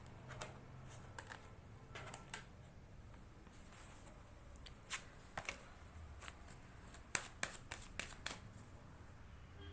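Tarot cards shuffled and handled during a monthly reading, soft faint riffling and light clicking taps spread irregularly, close and quiet with no talk.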